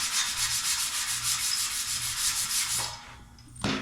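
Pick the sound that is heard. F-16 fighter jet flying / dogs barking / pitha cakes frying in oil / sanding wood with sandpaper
sanding wood with sandpaper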